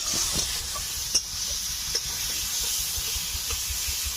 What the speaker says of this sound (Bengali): নাড়াচাড়া করে চালটাকে হালকা ভাজা ভাজা করে নেব।